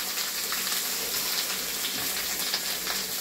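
Masala being stir-fried in hot oil for a mixed vegetable dish, a steady dense sizzle and crackle that stays close and continuous with no talking.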